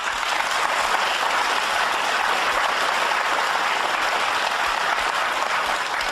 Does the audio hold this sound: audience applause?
yes